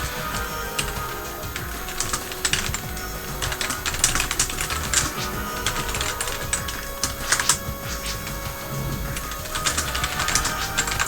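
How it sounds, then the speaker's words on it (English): Rapid typing on a computer keyboard at close range, with bursts of crisp key clicks and short pauses, loud and steady throughout with no talk. "Brilliant typing skills."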